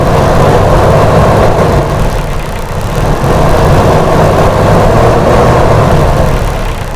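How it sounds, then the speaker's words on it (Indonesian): Car engine fitted with a distributor vacuum advance and octane selector, revving under acceleration: a loud, steady roar that holds for about seven seconds with slight dips in level, close by and with no voices. "Gas,"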